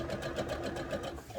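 A sewing machine stitching seams runs at a steady, moderate pace, its needle thumping in an even rhythm that stays fairly quiet and continuous throughout.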